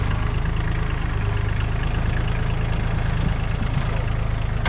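A project car's engine runs steadily with a loud, constant low rumble while its wheels spin, heard close up with no talk.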